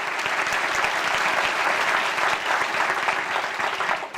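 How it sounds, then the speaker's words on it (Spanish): Church congregation applauding during a Spanish-language sermon, a dense, steady wash of clapping held at full strength throughout, loud and close with no talk over it. "Dale un aplauso al Señor."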